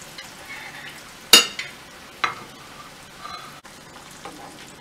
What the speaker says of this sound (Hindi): अब हम इसमें ये कटलेट्स डाल देते हैं। और इसे गोल्डन ब्राउन हमें डीप फ्राई करना है।